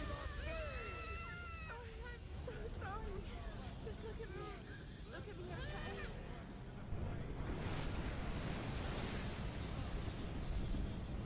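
Wind blows through a Tomb Raider game scene, a broad steady roar that swells louder in the second half, with a voice speaking over it early on.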